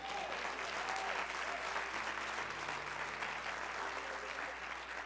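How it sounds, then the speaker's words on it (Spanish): Congregation clapping loudly during a Spanish-language church sermon, a sustained dense roar of hands with faint voices and tones underneath, even and continuous. "Aplaude fuerte, aleluya."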